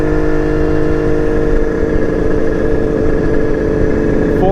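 A carbureted motorcycle runs steadily just after a one-kick cold start, a loud, close, even engine drone that holds a constant smooth note with no crackle or misses.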